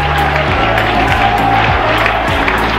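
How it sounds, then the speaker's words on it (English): A cricket stadium crowd on its feet cheers and applauds in a continuous, loud roar of clapping and shouting that holds steady throughout. "The crowd on their feet. Complete eruption of emotion here."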